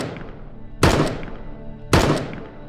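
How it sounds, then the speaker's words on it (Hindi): Two sharp, loud gunshots ring out about a second apart, each with a broad blast and a decaying echo tail, depicting the shots fired at Mahatma Gandhi in 1948; no voices. "उसी समय नाथूराम गोडसे ने गांधी जी पर लगातार 3 गोलियां चलाई।"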